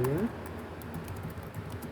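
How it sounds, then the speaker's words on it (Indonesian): A computer keyboard clicks with fast, light typing taps, quiet and close, following a brief spoken voice at the start. "ini adalah pengetikan sesuai dengan studi kasus"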